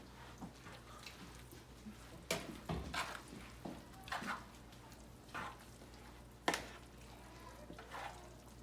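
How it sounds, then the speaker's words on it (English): Homemade potato salad being stirred in a bowl with a scraper, soft wet squishing and scraping strokes recurring every second or so, faint and close. "now you can just stir it in"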